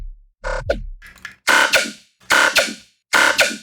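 Short synth bass stabs from a Serum patch, dry with no effects, hit in a repeating rhythm of about four bright, buzzy notes, loud and alone.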